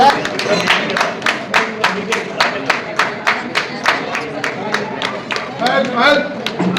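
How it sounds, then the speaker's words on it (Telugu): Audience at a seniors' birthday party clapping in a steady, rhythmic beat of sharp, evenly spaced claps, with voices murmuring beneath throughout. "క్లాప్స్ కొడుతూనే ఉండాలి."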